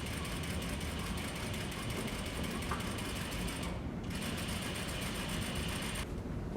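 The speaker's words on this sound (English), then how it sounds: "Now I'm keeping my eye going back and forth between my needle sewing along this line and my presser foot following the same guideline." A sewing machine runs steadily, stitching straight guideline rows on a piece of muslin, with a continuous close mechanical whir that pauses briefly twice.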